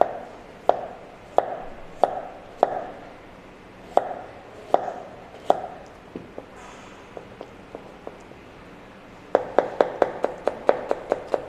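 A knife slices vegetables very thinly, about 1 to 2 mm, against a cutting board. Sharp, evenly spaced chops pause midway, then return as a quick rapid burst, close and crisp.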